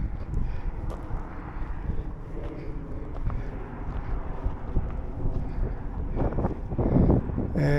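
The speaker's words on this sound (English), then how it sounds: "Now the wind is picking up." Wind gusting across the microphone outdoors at Wheeler Camp Spring, a continuous rough rumble that swells and buffets, growing stronger toward the end.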